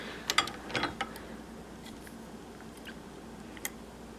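Small metallic clicks and ticks from a vintage sock knitting machine, a quick cluster of close, light taps near the start followed by a few sparse, fainter clicks against a quiet room.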